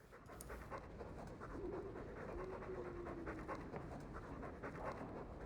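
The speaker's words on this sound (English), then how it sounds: "Dog, why are you over here?" A dog in the Dragon Age II video game pants steadily and quietly, a continuous rhythmic breathing sound over low background game ambience.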